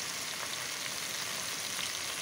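Cumin seeds and turmeric sizzle in hot oil in a pan, the base for a katla fish curry with green banana and potato; a steady, close frying hiss with no talk.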